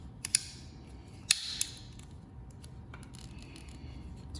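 Small metallic clicks and creaks from needle nose pliers pressing a screen clip into a slit, with a few sharp snaps early on and quieter handling noises after, close up and without speech.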